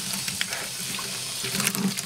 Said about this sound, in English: That's how you get the hot water through the siphon